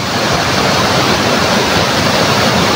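Dalitiwan Falls in Majayjay, Laguna, fed by cold spring water from Mount Banahaw, pours in a loud, steady broadband roar that fills the whole stretch without a break.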